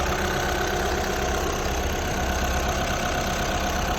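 A Skoda Octavia A5 engine idles steadily with a smooth, even low rumble, close by and unchanging, with no other sounds.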